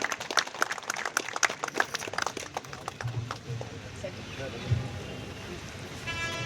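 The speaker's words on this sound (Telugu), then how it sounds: "కష్టపడినటువంటి మన కార్మికులను గట్టిగా చప్పట్లతో వాళ్ళని అభినందించాలి." Applause from the audience at a Republic Day function at a municipal corporation office, strong at first and then thinning out into scattered claps, with voices and background noise continuing.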